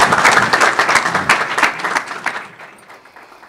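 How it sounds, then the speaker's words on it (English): An audience at a city council meeting claps for a few seconds, dense and fairly loud applause that thins out and fades toward the end. "Give me a round of applause."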